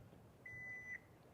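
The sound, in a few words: car hands-free liftgate beeping three times before opening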